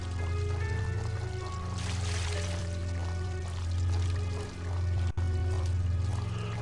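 Water pouring from a bucket in Luigi's Mansion: Dark Moon, a steady loud gushing stream that swells and briefly dips before continuing under background game music.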